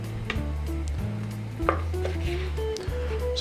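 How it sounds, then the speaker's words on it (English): A knife cutting pork chops into small pieces on a cutting board, a few sharp, sparse chops over steady background music. "so I'm gonna just kind of take some of that off and then just cut it into small pieces"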